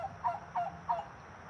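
A male Muscovy duck (drake) gives three short, breathy honking calls at an even pace, fairly close and moderately loud, with quiet background between calls.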